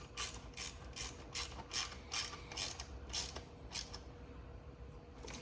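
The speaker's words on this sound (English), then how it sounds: "now when I tighten these covers, what I like to do is start in the corner" A hand ratchet clicks in a steady rhythm of about ten quick strokes, tightening oil cover bolts on a Venom gas ATV, close and fairly quiet, with no talking.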